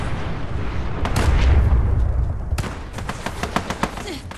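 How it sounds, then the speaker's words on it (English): A bazooka fires in a video game, a heavy booming blast with rumble, followed by a string of sharp shots, with voices talking over it. "There's a bazooka shooting here."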